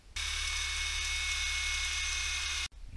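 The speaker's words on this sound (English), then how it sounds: "So we're going to drill out the bearing and see if we can't peel it off then." A power drill runs at a steady high whine for a couple of seconds while drilling out a bearing on a Gravely Model L, then cuts off abruptly.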